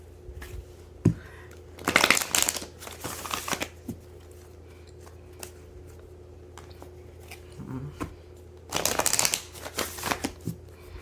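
A deck of tarot cards is shuffled by hand in two brief riffling bursts separated by quiet handling noises and soft taps, close up against a low steady hum.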